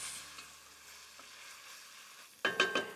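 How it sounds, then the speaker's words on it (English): Vegetables are turned in a hot pan, a soft low sizzle building to a burst of louder scraping and clattering stirs near the end; close and alone. "now all I need to do is stir the veggies and cook them around just for about 5 minutes"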